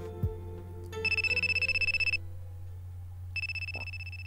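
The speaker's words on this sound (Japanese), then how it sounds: "先輩の携帯が鳴った。" Mobile phone ringtone in a Japanese horror visual novel game, a repeating electronic ringing pattern that sounds for about a second, pauses, then rings again, clear over a low steady background hum.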